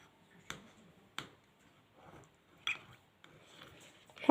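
Cutlery stirring ingredients in a bowl for homemade tacos, a few sharp scattered clinks and taps with quiet gaps between them, close by, ending in a louder clatter; no speech.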